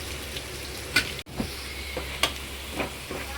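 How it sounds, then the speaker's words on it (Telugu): Onions frying in a pan for fish biryani make a soft, steady sizzle with a few light stirring taps, close and alone. "ఉల్లిపాయలు ఎర్రగా వేగనిద్దామండి."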